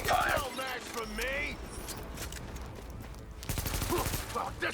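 Gunfire in a video game rattles as a sustained volley of overlapping shots beneath game voices and sound effects, thinning briefly before a heavier burst returns near the end.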